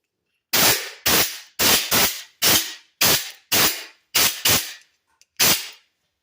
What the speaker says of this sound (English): I'm just going to take the air compressor and just blow it out now.